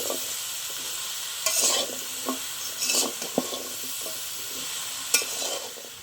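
Mixed vegetables with salt sizzle steadily in a pan while a spatula scrapes and stirs them, with several sharper clatters of utensil on metal standing out over the constant frying hiss.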